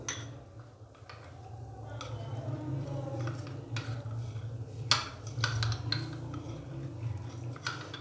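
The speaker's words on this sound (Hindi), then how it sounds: "अच्छे से हम इसको मिक्स कर देंगे।" A spoon stirring cornflour and water in a bowl gives irregular light clinks and scrapes against the bowl over several seconds, close and moderately loud, with a faint background hum.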